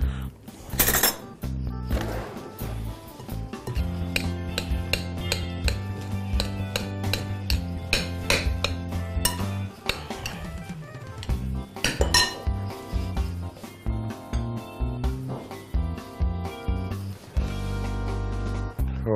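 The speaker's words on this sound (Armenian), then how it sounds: "Սա մի փոքր խառնենք։" Chicken breast is stirred in a dish, with a close, irregular run of utensil clinks and clatters against the dish and occasional louder knocks.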